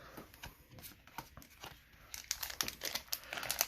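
Foil trading card booster pack being ripped open by hand, a close, quiet run of crinkling and tearing that grows busier and sharper toward the end.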